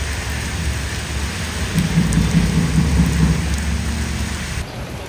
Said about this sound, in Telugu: బయట చూడండి ఎంత పెద్ద వర్షం పడుతుందో